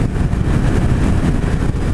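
Steady low engine roar from a 2016 Suzuki Hayabusa motorcycle pulling in sixth gear, a continuous close rumble with wind noise and no clear rise in pitch.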